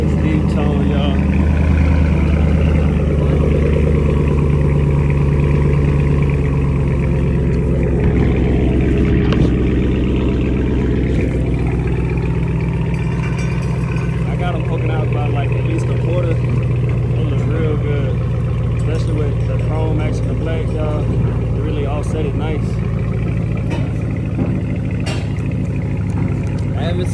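A 2015 Ram 1500 pickup engine with the muffler removed and an X-pipe rumbles loudly and steadily throughout, with a low droning exhaust tone and people talking over it.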